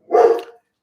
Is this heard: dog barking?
yes